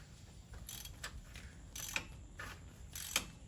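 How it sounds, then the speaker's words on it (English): Quiet ratchet wrench clicks come in a few short, sharp bursts while a bolt on stainless long-tube exhaust headers is turned on a Ford Crown Victoria. The ticking is brief and moderately close, and no voice accompanies it. "I barely even pushed on the ratchet and it started moving."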